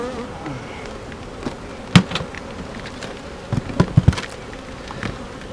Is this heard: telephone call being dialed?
no